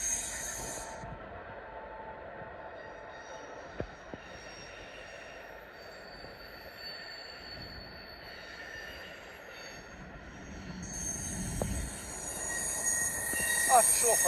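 DB Class 66 locomotive 66017 hauls a short freight train past a station, its wagon wheels squealing in a sustained high-pitched screech over a rumbling roll that grows louder toward the end.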